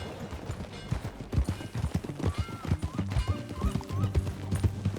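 Steady clip-clop of horse hooves trots close by in Red Dead Redemption 2, with a horse whinnying partway through over a faint background.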